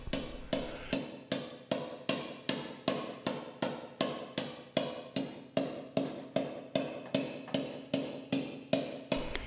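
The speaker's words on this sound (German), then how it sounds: "wird mit einem runden Polierhammer das Blech von innen nach außen getrieben. Auch hier verwendet man leichte Treibschläge." A round planishing hammer strikes dented sheet metal from the inside, driving it outward with light, evenly spaced blows, roughly two per second, each sharp metallic tap ringing briefly, close and steady throughout.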